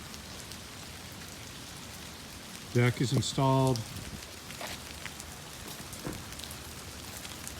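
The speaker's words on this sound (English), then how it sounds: "It's raining on us" Rain falls steadily on a newly built wooden deck with stairs and posts, a constant close hiss of drops, broken briefly by a person speaking.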